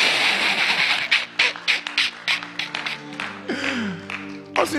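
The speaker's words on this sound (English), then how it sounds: "clap for your Bruni" Congregation clapping rhythmically during a Sunday church service at Gem Chapel, steady loud claps in a regular beat alongside sustained musical tones, fairly close.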